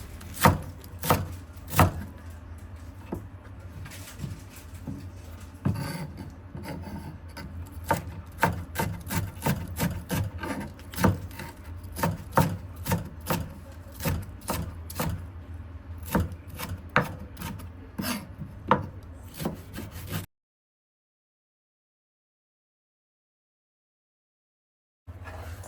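A knife chops spring onion on a cutting board: steady, fairly quick knife strikes, close and distinct, for about twenty seconds, then silence.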